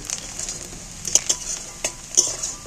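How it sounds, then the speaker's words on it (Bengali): Onions fry gently in a pan with a soft, continuous sizzle, broken by several sharp clicks and scrapes of a utensil stirring against the metal; close and moderately quiet, with no talking. "পেঁয়াজগুলো অনেকটা ভাজা হয়ে এসছে"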